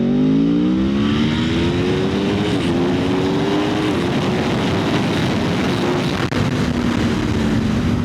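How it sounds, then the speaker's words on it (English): Big motorcycle engine winding out hard on the road, a loud steady roar with rising and shifting tones as it pulls through the revs, close and constant with no talk. "Such a treat to wind this big engine out like that."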